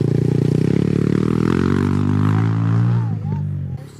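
A newly bought motorcycle pulls away with a loud droning engine tone that climbs in pitch, then fades as it rides off, with voices speaking over the end.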